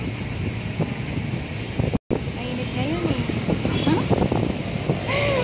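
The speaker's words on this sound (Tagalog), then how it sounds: "so malakas ang hangin dito, malakas ang hangin." Strong wind at Manila Bay buffets the microphone with a constant roar and rumble, while people talk over it in the background.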